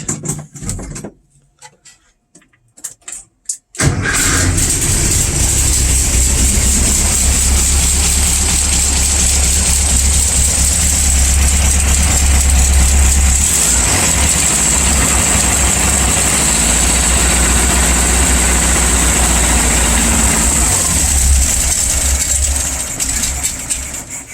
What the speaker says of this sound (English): Gonna give it a couple pumps of gas. Let me walk over to the ignition real quick.